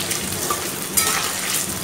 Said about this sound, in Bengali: সোনালি বাদামি রং আসা অবধি আলুগুলোকে ভালো করে ভেজে নিতে হবে।